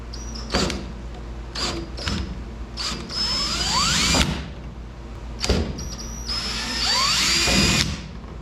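Tail light screws being backed out on a 1990 Ford F350 crew cab 4x4 diesel pickup: several short mechanical ratcheting bursts, then two longer whirring spins with clicks, close and fairly clear.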